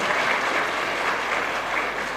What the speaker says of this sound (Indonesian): silakan tepuk tangan untuk diri Anda